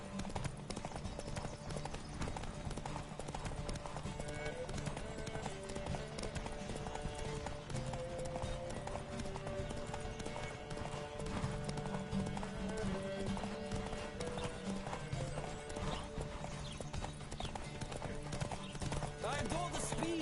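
Horse galloping in The Witcher, a steady rapid clip-clop of hooves running continuously at close range, with occasional whinnies over a dense game soundscape of music and ambience.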